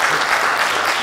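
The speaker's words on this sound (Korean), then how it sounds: "여러분 박수 쳐주세요." Dense applause from an audience at a rally, a loud, steady wash of many hands clapping together throughout the short moment, with no pauses.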